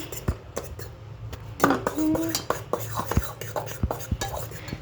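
A foamy mixture stirred in a bowl, with irregular clinks and scrapes of a utensil against the bowl, close and fairly quiet, with brief soft vocal sounds in between.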